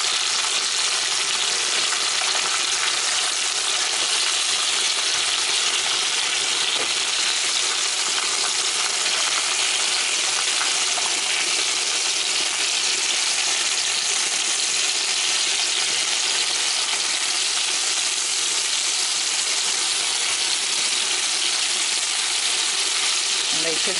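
Lamb chops sear in a hot pan for a lamb stew, giving a loud, continuous close-up sizzle and spatter that holds steady, with faint speech in the background.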